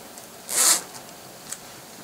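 A repaired clothing zipper is pulled once in a short, bright, close rasping zip, followed by a faint tick, with no talking.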